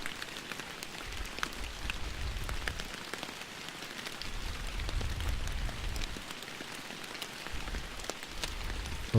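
Steady rain falls at Emerald Lake in the Fishing Planet video game, an even, dense patter on the surface with a low rumbling undertone, continuous and without talk.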